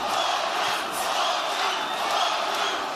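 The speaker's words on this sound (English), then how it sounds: "The crowd support this early in a Loma fight is almost unlike anything we've ever heard before." Arena crowd at Madison Square Garden roaring and cheering during an early round of Lomachenko's boxing fight, a continuous wash of many voices rising and falling, loud and sustained.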